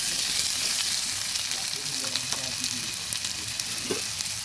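Rohu fish pieces frying in a wok of hot oil with salt and turmeric: a loud, dense, continuous sizzle and crackle filling the whole stretch, with a faint knock of a utensil near the end.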